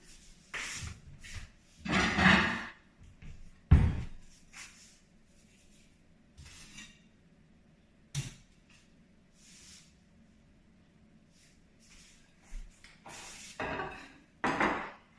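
A plate is picked up and set down on a kitchen counter while tuna croquettes are being made, with a few brief close clatters and scrapes and quiet stretches between them.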